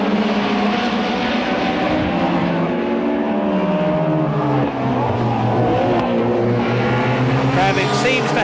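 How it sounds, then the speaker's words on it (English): Touring race cars lapping Donington Park in the 1990 British Touring Car Championship, engines roaring loudly and continuously with pitch sweeping as they pass, under a commentator talking throughout. "Gravitt coming up to lap a BMW, who moves across and lets him through"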